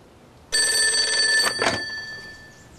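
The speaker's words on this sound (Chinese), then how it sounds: "师座，电话。" A telephone bell rings loudly in a military field headquarters during wartime fighting against Japanese forces, one sustained electric ring cutting in abruptly and then fading away.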